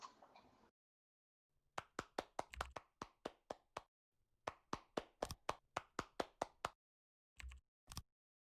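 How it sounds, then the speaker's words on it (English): Sparse, distinct hand claps at a virtual reality conference, a few single claps in loose bursts separated by silent gaps, sounding like only a handful of people clapping rather than a full room. "Another round of warm applause."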